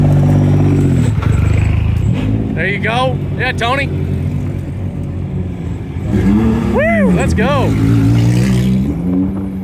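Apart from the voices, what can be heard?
race cars accelerating past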